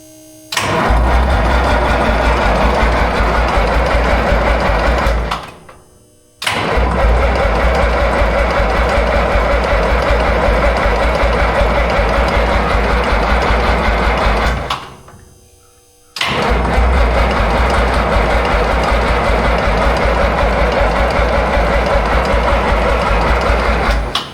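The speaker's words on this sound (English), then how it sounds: "He's going to crank it over." A Minneapolis Moline A4T 1600 tractor engine cranks over on its starter in three long, loud, steady bursts of about five to eight seconds each, separated by brief silences, without catching.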